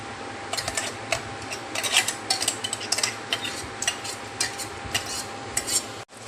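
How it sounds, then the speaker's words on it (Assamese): Chicken keema masala with ginger garlic paste is stirred in a pan. A spoon scrapes and clinks repeatedly against the metal in an uneven rhythm over a soft sizzle and steady background hum, close up with no talking. "মছলাবোৰ নিসিজালৈকে এতিয়া এনেকৈ লৰাই থাকিম।"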